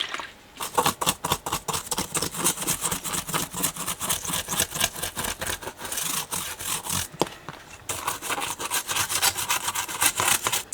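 A brush scrubs a Wurlitzer Niagara jukebox part wetted with isopropyl alcohol, a close, loud, rhythmic back-and-forth rasping that runs almost continuously with only brief pauses, no voices.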